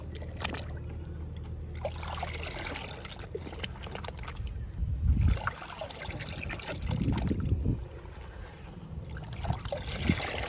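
Powder for a plant-care liquid is stirred into water in a container, making quiet, irregular sloshing and swirling bursts with short pauses between.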